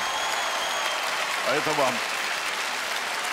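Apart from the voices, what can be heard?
audience applauding in a concert hall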